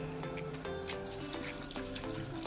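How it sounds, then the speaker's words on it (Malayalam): Vinegar poured from a bottle into a batch of mango pickle, a steady liquid trickle with small splashy gurgles throughout, close and fairly quiet, no voices. "നമുക്കിനി വിനാഗിരി ഒഴിക്കാം."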